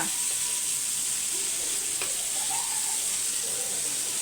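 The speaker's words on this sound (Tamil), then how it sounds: "மீன் ஒரு பக்கம் வறுத்துட்ருக்கோம்" Fish frying in a pan, a continuous dense sizzle and hiss held at an even level throughout, close by, with a faint click midway and no talking.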